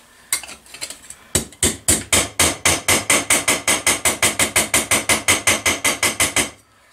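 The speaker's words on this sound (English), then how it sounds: "I'm gonna beat on it with a hammer." A hammer beats on the metal plate of an outboard motor's lower unit: a couple of loud clangs, a short pause, then about two dozen sharp, ringing blows in a fast, even rhythm, close up.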